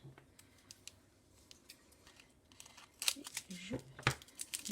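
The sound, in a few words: scissors cutting small bags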